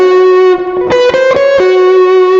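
Electric guitar playing micro-tone string bends, sustained distorted notes that slide slightly in pitch between repeated picked attacks, loud and close with no talking.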